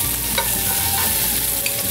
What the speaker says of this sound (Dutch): mijn uien, dat heb ik van tevoren laten koken en laten een beetje braden